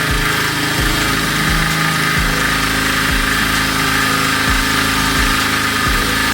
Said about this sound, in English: So I was left with no other option than to drill this screw out.